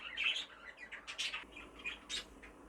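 A young pigeon chirps in a loft with several short, high, squeaky peeps in an irregular rhythm, close and fairly clear against a quiet background.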